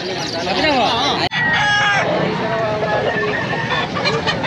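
Roosters crow and hens cluck at a pet market amid a busy background of people talking, loud and close, with calls overlapping throughout.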